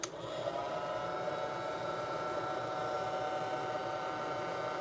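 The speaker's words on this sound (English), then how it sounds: "I would suggest that you use a hair dryer." A hair dryer blows steadily at close range while heating a plastic part on a G.I. Joe Marauder Task Force Bullhorn model kit, a constant airy whir starting with a click and running unbroken.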